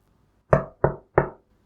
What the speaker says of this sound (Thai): เสียงเคาะประตูนำพร้อมกับประตูที่ถูกผลักเข้ามา